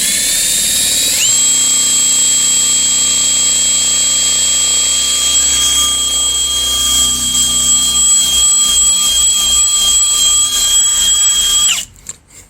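Power drill boring steadily into a hardened ABUS bike lock, a loud continuous high-pitched whine with harmonic tones that holds for about ten seconds before cutting off abruptly near the end.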